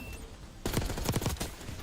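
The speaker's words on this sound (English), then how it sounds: "That was a lot of explosions." Rapid barrage of explosions and gunfire in a Call of Duty Hardpoint esports match, a dense cluster of loud close blasts following a quieter stretch.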